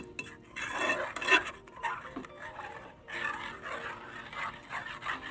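A spoon stirs egg halwa in a pan over a low flame, scraping and clinking against the metal in irregular bursts, close and moderately loud, with no talking.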